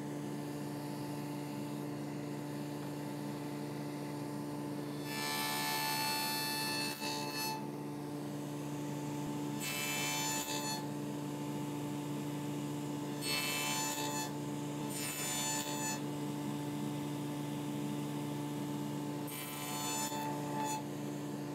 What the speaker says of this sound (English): what I'll do is cut a notch on each end of the piece, and then I'll remove the waste in between